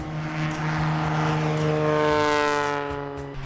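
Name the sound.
propeller airplane taking off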